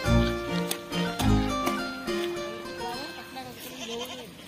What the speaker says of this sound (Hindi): ये बकरा